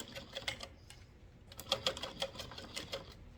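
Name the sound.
sewing machine stitching a zipper pouch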